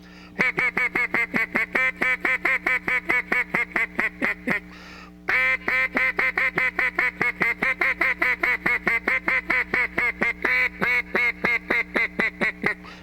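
A duck call imitates a pleading hen mallard in a fast, urgent comeback sequence: long runs of loud, rapid, raspy quacks close to the mic, with one short pause midway before the calling resumes.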